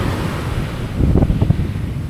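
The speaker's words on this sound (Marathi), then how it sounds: "मध्ये लाटा खूप जोराच्या आहेत त्या त्या बघ केवढं जोरात मारतात" Strong ocean waves crash and churn at Khavane Beach, a steady low roar of surf with a heavier surge in the middle, buffeted by wind noise on the microphone and with no talk.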